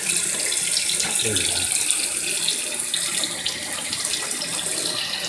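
Hot water runs steadily from a tap as brushes are rinsed beneath it, a close, continuous splashing hiss with a brief spoken remark over it.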